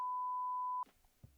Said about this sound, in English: gonna beep that out.